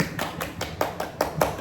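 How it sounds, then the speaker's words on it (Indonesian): A small group claps for a student champion, about eight sharp, evenly spaced claps in a brisk, steady rhythm, close and fairly loud, with no talking over them. "Tepuk tangan dulu untuk May"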